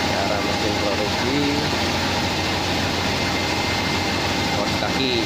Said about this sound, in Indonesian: Inilah cara mesin produksi